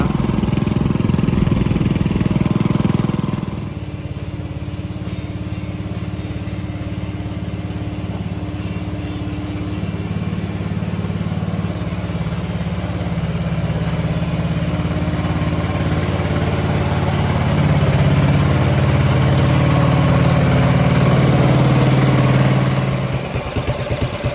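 A Honda-engined Farmall tractor with a gear-reduction second transmission runs steadily at close range, its engine drone rising slightly as it shifts into reverse and backs up, with no talking.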